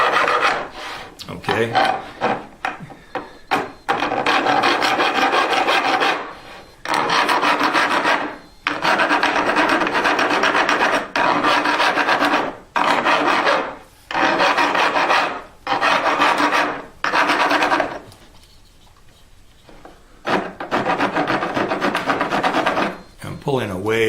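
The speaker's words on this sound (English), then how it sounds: "so I'm going to have a bit more filing to do here" A hand file rasps on wood in a custom electric guitar build, making loud, close strokes in repeated bursts with brief pauses between them, and one short spoken word.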